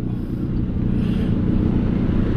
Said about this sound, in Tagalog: Nakaka-toxic talaga yung traffic.